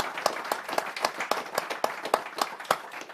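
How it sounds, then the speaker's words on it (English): An audience claps for two panellists at a leadership networking event, a thin scattering of distinct individual claps in an uneven rhythm, fairly quiet and close, without voices over it. "please join me in giving a fantastic round of applause to both Steph and to Helene"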